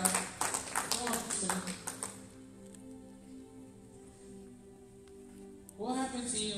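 A worship congregation at a healing service breaks into brief rapid clapping, a burst of scattered handclaps for about two seconds before fading into quiet hum and room tone, then a voice resumes speaking.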